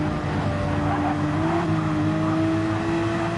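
A Nissan GT-R GT3 race car roars in a sim-racing game during an online DTM-style race at Kyoto, its engine holding a steady, loud drone with a slight pitch shift midway and no voices over it.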